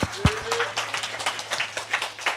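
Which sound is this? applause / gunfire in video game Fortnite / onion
applause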